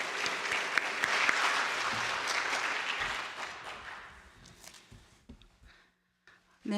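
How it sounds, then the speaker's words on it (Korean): Church congregation at a Sunday afternoon service claps in encouragement, a full sustained round of applause that thins and fades out, leaving a few scattered claps and near silence at the end. "격려의 박수 한번"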